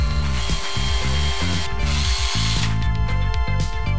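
A power drill whirs loudly in short bursts, its motor revving up and down as it bores into wooden brackets, with no voices.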